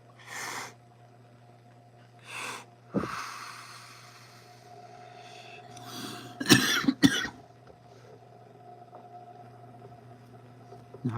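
A few short, harsh coughs and throat-clearing snorts after a hit of smoke, spaced across a quiet stretch with a low steady hum underneath, the loudest burst of coughing coming near the end.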